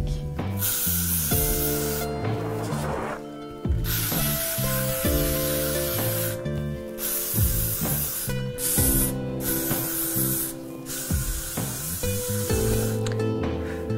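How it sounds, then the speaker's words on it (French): Hairspray hisses from a can in several long bursts with short pauses between, spread over the hair from about 30 cm away while background music plays. "Essayez d'être à plus ou moins 30 cm pour bien répartir votre laque."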